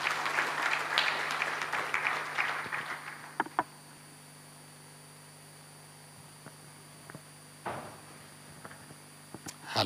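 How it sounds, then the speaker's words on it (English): Applause for a moderator at a telecommunications meeting starts fairly loud, fades out over about three seconds, then a few scattered claps and small noises follow over a steady background hum. "A round of applause for our moderator,"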